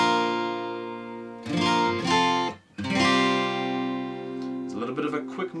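An acoustic guitar strums a chord progression in a few ringing chord hits with brief pauses between changes, close and clear.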